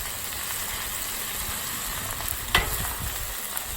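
Stir-fry with spinach sizzling on a large Blackstone griddle, a steady close, dense frying hiss throughout with one brief scrape or clatter partway through.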